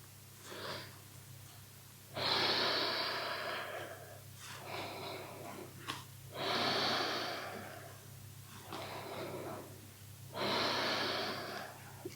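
Slow, audible breaths from a person doing a relaxation exercise on a foam roller, three long exhalations in a steady rhythm with quieter inhalations between them, close and clear over a low hum.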